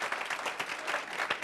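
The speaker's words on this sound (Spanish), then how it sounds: "den un aplauso fuerte al Señor, aleluya" Congregation applauding during an evangelistic church service, a brief burst of quick overlapping claps at moderate volume.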